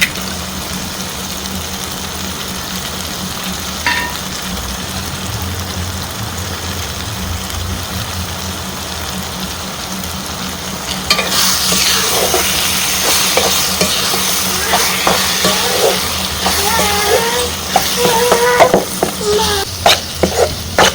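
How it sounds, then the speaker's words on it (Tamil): Egg frying with tomato and pepper powder in a pan for muttai kothu parotta, a steady close sizzle over a constant hum, joined in the later half by busy scraping and stirring. "இப்போ முட்டை நல்லா வதங்கி வந்துடுச்சு."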